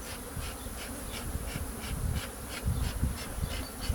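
Honeybees buzz continuously in a dense, droning swarm at a hive, close by, with a steady hum that swells slightly toward the end.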